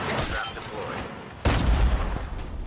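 Shotgun fire in the mobile game Call of Duty Mobile: one sharp, heavy blast cuts in partway through, after a stretch of game ambience and quiet talk. A rumbling tail lingers behind the shot.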